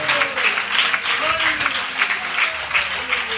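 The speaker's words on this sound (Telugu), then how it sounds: "దేవుని బిడ్డలారా, చప్పట్లు కొడుతూ ప్రభువుకి స్తోత్రం చెల్లిద్దాం." A church congregation claps in praise, a steady rhythmic patter of many hands at moderate loudness, with a voice speaking over it.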